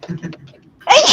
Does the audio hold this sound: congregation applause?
no